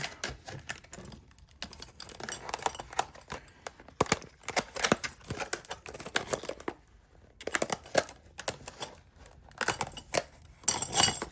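Plastic packaging for a Rhino USA anti-rattle hitch tightener is rustled, crinkled and torn open in bursts of close, busy handling noise, with short pauses between grabs.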